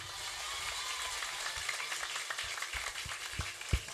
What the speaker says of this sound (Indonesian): Tepuk tangan untuk Islam.